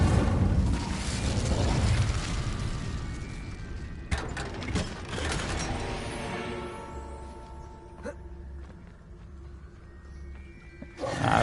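Bombarda blasting spell going off in the video game Hogwarts Legacy: a loud, roaring, rumbling blast that fills the clip, with a sharp burst partway through and debris-like crackle fading into lower rumble.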